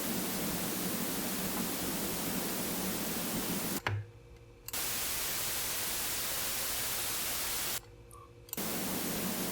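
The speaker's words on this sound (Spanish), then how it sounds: "Esta es la gris, nos suena más plana" Continuous flat, even hiss of gray noise from the noise generator of a VCV Rack software synthesizer, cutting out twice for brief gaps before resuming.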